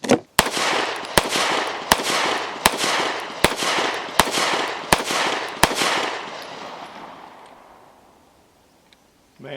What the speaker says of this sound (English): Man, that's a sweet shooting gun.